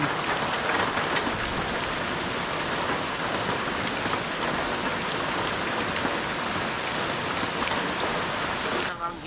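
Steady dense rain falls at dawn in a rural coconut-drying setting, a constant close hiss of drops on surfaces holding evenly throughout and cutting off at the very end, with no talk.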